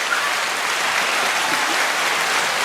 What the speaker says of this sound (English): Round of applause for Black Love.